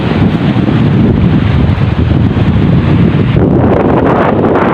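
Strong northeast monsoon wind buffeting the microphone on open water during a fishing trip, a loud continuous roar that dips briefly near the end, with no talk.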